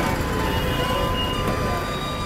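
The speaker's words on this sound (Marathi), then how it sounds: "आता समोर पाहताय आपण मेट्रो चालली इकडे या साईडला" Jaipur metro train passing nearby in the city, a steady rumbling roar of rolling rail carriages with faint high metallic whines and squeals riding over it, continuous and fairly close, with no talking.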